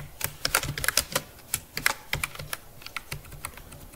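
Someone types C++ code on a computer keyboard, a quick, uneven patter of close, crisp keystrokes with short pauses between bursts.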